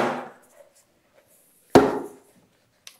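A hammer strikes parts of an old Mercury flathead outboard engine in two sharp, close metallic blows a couple of seconds apart, each ringing briefly, with a faint tap near the end and no talk.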